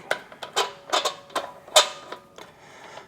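Lug bolts on a Mini wheel are threaded on by hand, giving a quick run of close, dry metallic clicks and creaks in short irregular bursts, with no one talking.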